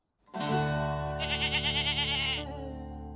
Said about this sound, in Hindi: बकरा जो उसने पीछे छोड़ दिया था, उसकी एक हल्की सी मिमियाहट उसके कानों में गूंज गई